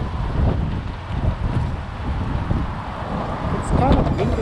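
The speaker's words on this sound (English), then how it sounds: "It's kind of windy out here." Wind gusts rumble and buffet the microphone in a steady low roar that swells near the end, recorded while riding an e-bike in Toronto.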